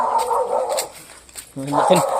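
A large dog gives a short bark right after a stretch of close talking, with voices continuing around it.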